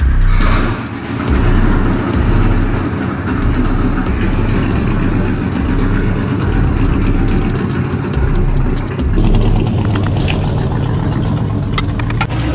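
A widebody C2 Corvette with a big-block 427 V8 and straight pipes drives by loud and close, its engine a steady, rough low rumble with a brief lift in revs near the end and no talking over it.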